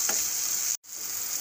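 Finely chopped tomatoes go into golden fried onions and a chopped green chilli in a pan, making a steady, close sizzle. A brief cut of silence falls midway, then the frying resumes.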